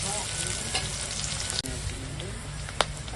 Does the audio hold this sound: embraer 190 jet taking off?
no